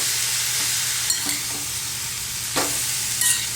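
Ghevda bean pods being stirred into masala in a pan while the dry vegetable steams, with a steady soft sizzle and a few sharp scraping clinks of the spoon against the pan.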